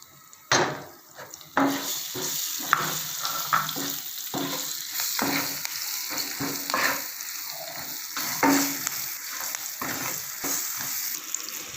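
Whole green and red chilies drop into hot, ready masala and fry with a steady sizzle, broken by repeated clanks and scrapes of a stirring spoon against the pot, close and fairly loud with no talking.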